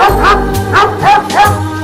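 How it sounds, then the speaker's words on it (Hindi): Dog barking close by, about four loud yips and barks in a quick, even rhythm. "ये डॉग तुम्हें देख के भौंक क्यों रहा है?"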